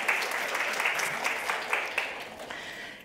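A conference audience on public-sector governance and internal audit applauds a speaker with continuous, even clapping that fills the room and stays steady, with faint traces of voices underneath.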